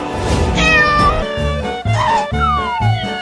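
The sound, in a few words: cat meowing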